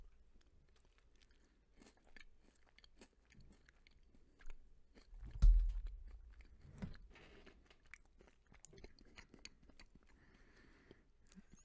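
Someone chews gelato layered with crunchy waffle cone pieces and salted pretzel sauce, giving quiet, irregular crunching and mouth noises with one louder bite in the middle, with no talking.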